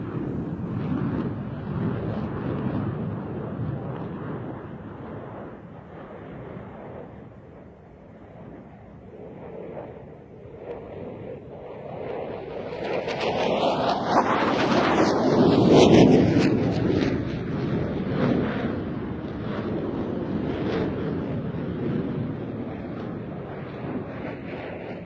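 A JF-17 and an F-16 jet flying a side-by-side Cuban 8 at an airshow in Izmir, a distant roar that swells and sweeps past near the middle before fading, with wind buffeting the microphone throughout.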